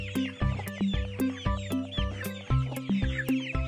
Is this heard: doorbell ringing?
no